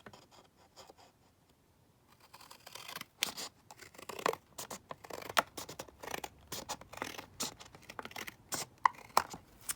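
Scissors trimming a craft piece, a run of quiet close snips and paper rustles that starts faint and grows busier, with no talk.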